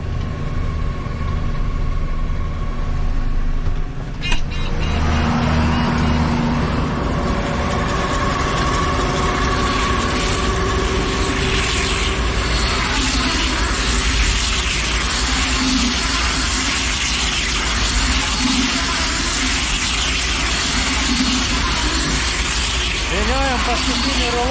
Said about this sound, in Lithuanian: Važiuoju paskutinį šių metų rulonas.